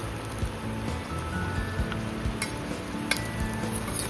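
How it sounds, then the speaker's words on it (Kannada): Chopped tomato fries with onion in a pan, giving a continuous close sizzle broken by scattered crackles and soft scraping from stirring. "ಚೆನ್ನಾಗಿ ಫ್ರೈ ಮಾಡ್ಕೊಳ್ಳಿ."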